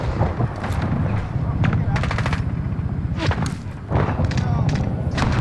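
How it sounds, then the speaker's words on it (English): Heavy gunfire from a VTOL aircraft in the Call of Duty Ground War mode, repeated short bursts of rapid cannon-like shots pounding over a constant rumbling battle din, loud and close, with a voice talking underneath. "No, a VTOL shooting me."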